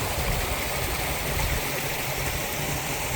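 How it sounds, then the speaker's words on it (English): Water pours steadily out of a mountainside spring into a stream on a Grand Canyon backcountry route, a loud, close, continuous rushing and splashing with no voices. "This water just pours right out of the mountainside."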